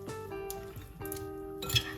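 Light clinks of a spoon against a glass bowl ring out a few times, quiet and close, with faint stirring in between.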